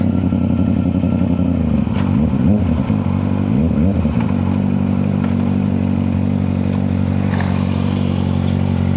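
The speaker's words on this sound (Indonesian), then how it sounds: "Kita panasin ZX dulu guys." A Kawasaki ZX motorcycle, left unridden for a month, warms up at a steady idle, then revs sharply in quick bursts around the middle before settling back to a loud, continuous idle close by.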